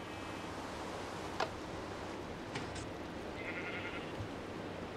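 A short, faint sheep bleat from Minecraft rises once over a steady hiss of background noise, followed by a few soft clicks and a brief tonal chirp.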